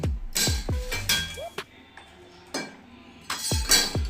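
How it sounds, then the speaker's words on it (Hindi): Knife chops through desi eggplant on a board in a home kitchen, several sharp clinking, knocking cuts in quick bursts with brief pauses between. "अब बैंगन काट लेते हैं,"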